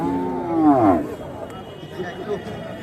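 A cow gives one long, loud moo nearby at a large cattle market in Barishal, followed by crowd murmur and voices talking in the background.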